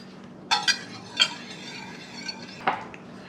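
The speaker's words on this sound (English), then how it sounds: "You mix it up all together." Custard for French toast being mixed in a bowl: a few sharp clinks of a utensil against the dish, then quieter stirring, close and sparse.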